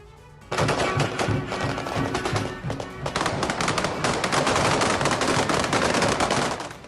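Rapid bursts of gunfire in Mariupol, Ukraine, crackle after a brief quiet start, dense overlapping shots continuing loud and sustained to the end.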